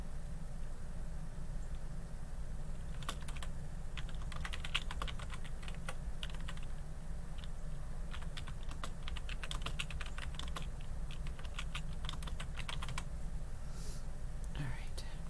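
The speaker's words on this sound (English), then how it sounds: "I'm typing a email to my daughter." Someone types an email on a computer keyboard, with irregular bursts of key clicks at moderate level over a steady low hum and room noise, and no talking.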